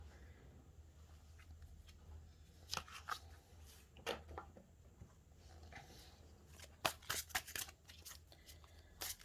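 Tarot cards are shuffled close by in quiet, uneven bursts of riffling and flicking, the sharpest flurries near the end, with no talking.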